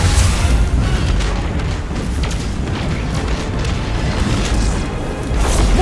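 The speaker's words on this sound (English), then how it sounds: "Missiles! Stay inside my shield!" Missile strikes pound a Destiny 2 battlefield during a Red Legion assault, with a continuous loud, rumbling wash of deep booms and blasts that swells again toward the end, no talk over it.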